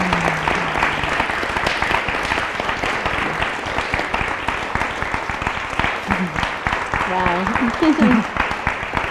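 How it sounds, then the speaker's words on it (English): Large audience applauding and cheering for healthcare professionals, loud sustained clapping filling the room with scattered voices calling out over it. "give her a huge round of applause for her and for all healthcare"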